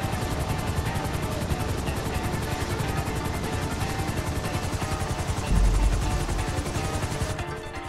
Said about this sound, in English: Bring the chopper down easy.